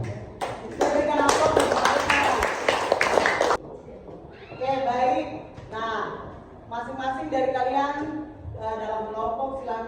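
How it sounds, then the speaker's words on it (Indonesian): A group of students in a classroom gets a burst of applause, several seconds of dense clapping from many hands, after which a teacher speaks over the room. "Berikan aplaus untuk mereka"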